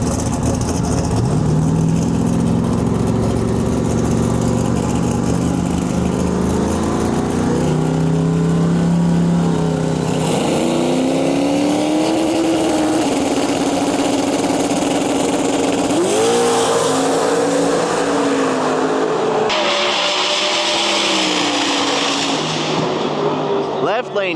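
Drag race cars launching down a strip in the X275 class, one a blue Chevrolet Nova, engines roaring loud and close with rising, sweeping pitch and crowd or announcer noise underneath.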